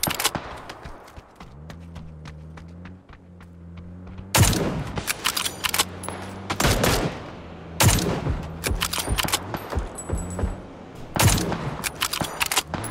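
Bursts of gunfire from PUBG shooting out vehicle tires on the Erangel map, sharp volleys of shots in clusters separated by short pauses, with a low engine hum audible early on.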